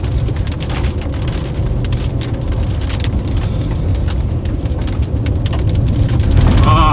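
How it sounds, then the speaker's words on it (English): Heavy rain pours during a Nebraska supercell storm, a loud continuous roar of drops hammering a vehicle with low rumbling underneath that rises slightly toward the end. "You can see the rain curtains flying though from left to right here."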